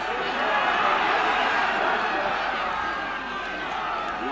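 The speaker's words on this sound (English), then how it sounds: "Crowd urging on encouragement." Stadium crowd at the Tug of War World Championship cheering and urging on a struggling Irish team, a loud continuous roar of many voices with a commentator talking over it.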